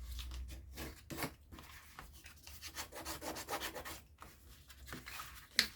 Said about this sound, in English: So burnish on all of those fold lines.